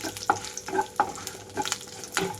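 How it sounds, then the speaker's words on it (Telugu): Tempering seeds, including a little fenugreek, fry with curry leaves in hot oil for a brinjal and green pea curry, giving a steady close crackling sizzle broken by several sharp stirring scrapes. "తాలింపు అంతా చెట్టుపటమంటూ రంగు మారేదాకా ఉండాలి"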